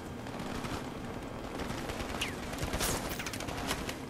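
Dense, continuous gunfire fills a Call of Duty 4 Remastered night battle in a bog, with overlapping rapid shots and bursts at steady loudness and no talking.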